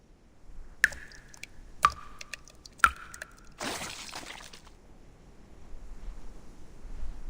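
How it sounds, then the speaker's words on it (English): Water drips three times, about a second apart. Each drop lands with a clear ringing plink, followed by a short soft splashing rush and then near quiet. "Sounds like dripping water."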